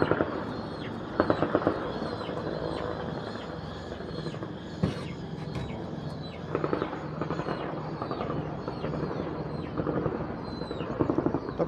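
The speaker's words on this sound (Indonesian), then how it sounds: "Helikopter ada nih" A helicopter flies over a residential area during an air attack in West Papua, a broad rumbling drone that persists throughout with sharp bursts and cracks over it.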